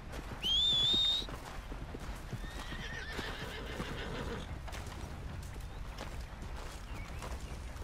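A horse in Red Dead Redemption 2 lets out a loud, high whinny near the start, then soft hoof clip-clops and outdoor ambience continue behind it.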